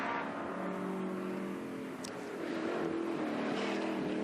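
A historic racing car with a 4.7-litre, 289 cubic inch engine roars around the circuit at the Le Mans Classic, a loud continuous engine drone with slight pitch shifts as it passes, no talking.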